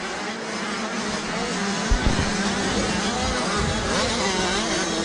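65cc motocross bikes race at a British youth event, their engines droning and revving continuously at mid distance under faint commentary.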